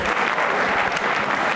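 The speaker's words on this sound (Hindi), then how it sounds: "तालियां जोरों से बजाइए दोनों आदित्यों के लिए" An audience at a law college quiz show applauds two contestants, a short burst of dense, loud clapping with no pauses.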